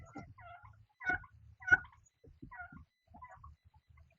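A hen inside a coop makes soft clucking and murmuring calls in short bursts, close and quiet, with brief pauses between them.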